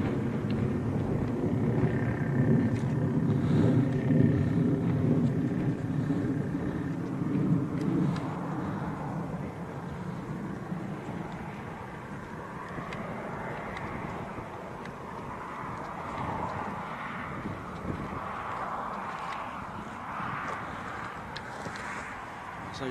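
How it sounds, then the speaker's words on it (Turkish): A Russian military aircraft flying over Syria near the Turkish border, heard as a distant rumbling engine roar that swells and slowly fades, with wind noise around it. "Uçak gidiyor, uçak."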